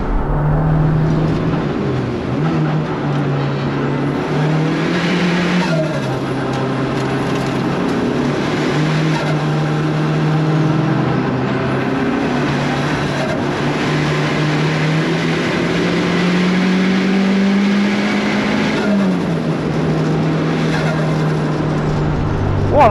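A 430bhp Renault Clio engine revs on the move, a loud, sustained drone whose pitch climbs and falls repeatedly as the car is driven, with no talking over it.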